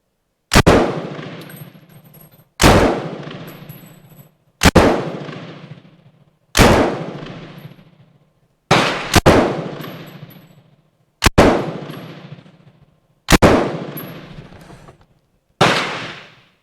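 A Bren MK2 machine gun fires bursts outdoors: eight sharp, loud reports spaced roughly two seconds apart, each one ringing out in a long decaying echo before the next.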